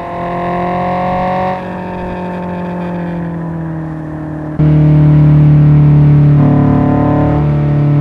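Honda S2000 engine in the Assetto Corsa racing game, a steady sustained drone that swells louder about halfway through, with shifting pitch as the car cruises along a Japanese highway on a cloudy day.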